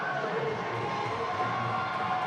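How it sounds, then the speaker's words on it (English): A crowd at a fight cheers and shouts excitedly, a dense steady roar of many voices heard throughout at moderate level. "Crowd's just a little bit excited over that."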